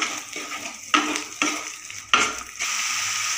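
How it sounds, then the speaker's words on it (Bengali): Spice paste with cumin powder frying in a pan for an egg curry, a steady close sizzle broken by several sharp scraping stirs of a spoon against the pan. "এরপরে ভালো করে মশলাটা কষিয়ে নেব"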